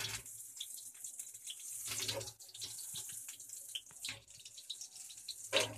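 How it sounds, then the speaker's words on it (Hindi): Eggplant fries in hot oil in a kadai, giving a continuous close sizzling hiss with brief crackling surges and no voices. "अब इसमें ये बैगन मैं डालूंगी।"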